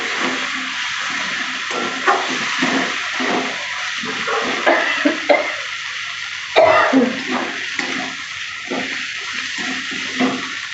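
Water poured into a pan of frying spices and boiled goat tripe, a steady hissing rush with small splashes and a sharper burst midway, loud and continuous throughout.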